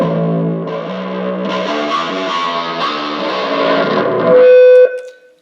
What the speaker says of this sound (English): more like a straight ahead distortion pedal.